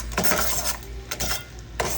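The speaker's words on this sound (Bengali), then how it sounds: "এখন আমি অনবরত নাড়ছি, তাহলে খুব সুন্দর কালার আসবে।" Spoon stirring sugar and water caramel in a pan while making pudding, with light scraping and occasional metallic clinks against the pan, close and fairly quiet, without talk.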